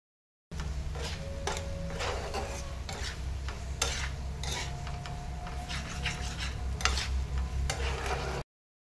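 Maggi noodles mixed with egg and a little water stirred in a pan, a soft steady sizzle broken by repeated scraping strokes of the spoon at an even rhythm; no speech.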